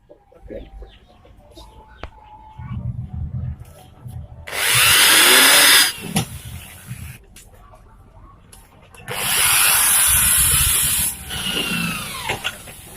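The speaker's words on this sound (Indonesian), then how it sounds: "kita ukur dahulu posisinya di bagian box agar nanti kita lubangi di bagian box di bagian bawah" A power drill bores holes into the bottom of a wooden amplifier box in two loud, sustained bursts of a couple of seconds each, separated by quieter handling noise and brief low talk.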